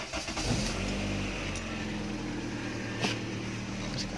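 A 2000 GLI used car idles steadily with a low, even engine hum, close by, with a couple of faint clicks and knocks over it.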